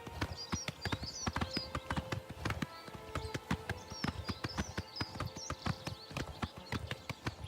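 Horse hooves clip-clop steadily in Oblivion Remastered, a quick, even rhythm of close, loud hoofbeats running throughout against a background of game music.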